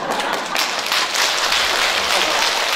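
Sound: audience clapping hands at a lecture

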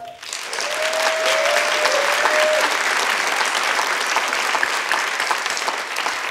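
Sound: audience applause

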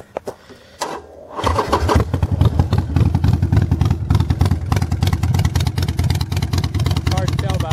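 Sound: motorcycle engine started and running

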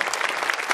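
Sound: audience applause after a ballet performance

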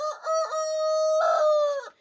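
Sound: hen clucking after laying an egg

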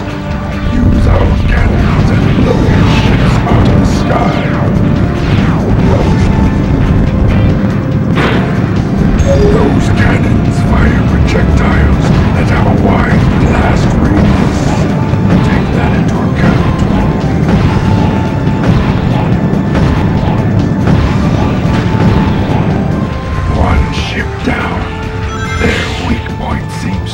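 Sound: cannon fire and explosions in the video game Shadow the Hedgehog

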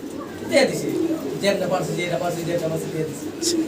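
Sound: pigeons cooing at a pigeon market

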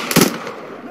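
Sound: gunfire in the video game Arma 3

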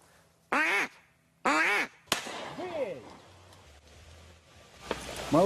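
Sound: duck call imitating a duck quack

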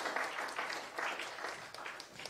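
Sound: audience applause at award ceremony

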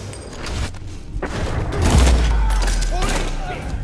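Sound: gunfire in the video game Mafia 3

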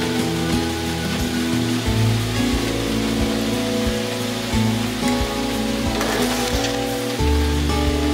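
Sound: heavy rain at a construction site

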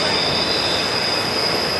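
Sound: Norfolk Southern train passing with squealing wheels

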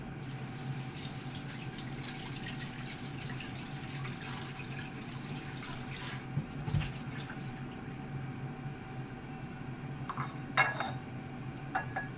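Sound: washing with running water

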